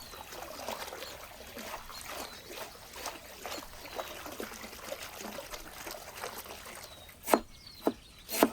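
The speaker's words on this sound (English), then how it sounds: "Let's give these a good rinse in the fresh well water before adding them to our mix." Fresh well water trickles and splashes as coriander and parsley are rinsed outdoors in a village kitchen, a soft continuous dribble with a few sharper splashes near the end.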